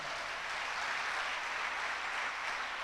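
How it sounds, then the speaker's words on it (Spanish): A church congregation applauding the Lord during a Spanish-language sermon, a steady, even wash of clapping from many hands that holds constant throughout with no voice over it. "¿Tanto le dan aplausos al Señor?"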